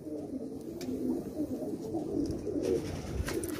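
A mated pair of pigeons, male and female, coo steadily at close range, a soft continuous low murmur of overlapping calls with no speech.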